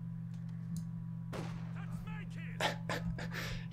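Sharp gunshots in Company of Heroes 2 crack over a steady low engine hum, arriving as a cluster of several shots in the second half.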